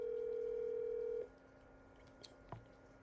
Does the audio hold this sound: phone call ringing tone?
yes